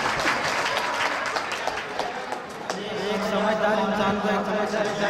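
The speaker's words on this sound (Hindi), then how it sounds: "एक बार इनके लिए जोरदार तालियां बजाएं ताकि आपको सुन सके।" Audience at a Hindi-Urdu poetry gathering (mushaira) in Mangrul Pir claps in a burst of applause, with talk and crowd noise mixed in throughout the clip.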